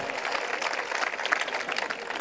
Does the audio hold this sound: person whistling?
no